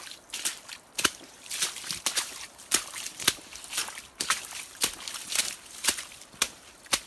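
Footsteps splash and slosh through shallow running water on a flooded hiking trail after days of rain, a steady walking rhythm of wet splashes close by with a faint trickle between steps.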